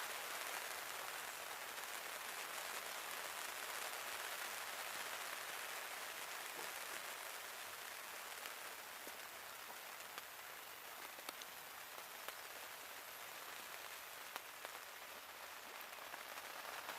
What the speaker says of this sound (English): It's really raining now. It's coming down really heavy.